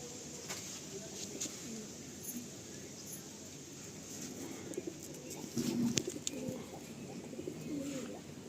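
A male Madrasi pigeon coos softly in a loft, low repeated rumbling coos beneath a steady background hiss, with occasional faint chirps and brief rustles toward the end.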